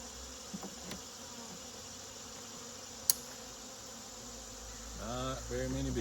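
Honey bees buzz quietly inside a sparsely populated hive during a queen check and treatment, a steady low drone with a sharp click near the middle and a louder, rising hum toward the end.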